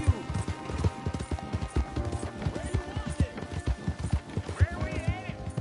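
Rhythmic clip-clop of a horse's hooves galloping steadily in the open-world western game Red Dead Redemption 2, loud and close throughout, with a brief whinny-like sweep near the end.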